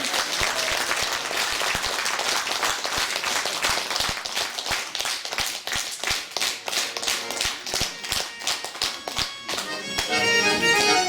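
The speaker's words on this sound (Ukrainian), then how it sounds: "Давайте бурными аплодисментами его поддержим." Loud, sustained applause from an audience at a folk accordion concert in Ust-Izhma, dense clapping filling the whole stretch, with music starting up faintly near the end.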